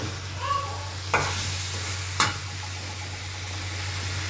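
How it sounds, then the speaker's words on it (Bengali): Potato and eggplant sauté in a pan under a steady soft sizzle, broken by two sharp spatula scrapes a second apart, with a low hum beneath and no speech. "সবজিটাকে বেশ ভালোভাবে কষাবো"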